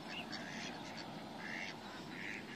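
Ducks quack in a steady chatter of short nasal calls, fairly close, with a busy outdoor background in the marshes of Le Long in the Somme.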